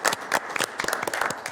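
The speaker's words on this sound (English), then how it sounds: "How about we can applaud folks," Short burst of clapping from a small group at a county board of supervisors meeting, irregular claps close by without any voices.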